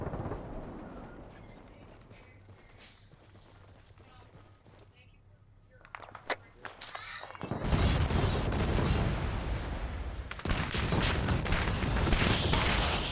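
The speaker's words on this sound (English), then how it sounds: "we are taking fire from down the street" Gunfire erupts in a night-time tactical security operation in a video game, with loud dense bursts and volleys of shots from down the street building up and filling the second half, over radio chatter and voices.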